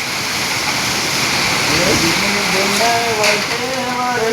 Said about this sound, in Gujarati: વીજળીના કડાકા સાથે મેઘો વરસી રહ્યો છે.